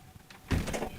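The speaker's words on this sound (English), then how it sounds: "closing the door, locking it." A back door of a house swung shut and locked, a firm thump with a rattling latch and bolt clatter at close range after a brief quiet moment.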